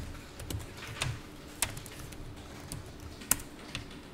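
Quiet typing on a computer keyboard during accounting data entry, with sparse, separate keystroke clicks at an uneven pace and no talking.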